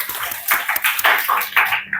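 Classroom applause for a student named Tama at a school in Tanjungpinang, Indonesia: a short burst of scattered hand claps from a small group, close and fairly loud, fading out after about two seconds.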